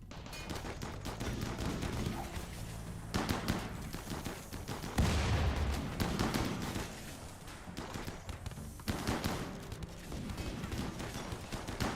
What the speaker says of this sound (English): The powered turrets are doing their job.